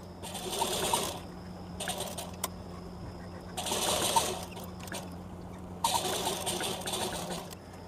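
A sewing machine stitches the side seam of a baby girl's top made from a saree blouse piece, running in three or four short bursts of rapid whirring with quiet pauses between. The bursts are close and moderately loud, with no talk.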